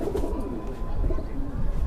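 Pigeons cooing in a loft of paired Kalpare Madrasi pigeons, low, steady, close murmuring calls with a light bubbling rhythm over the short span, with no talking.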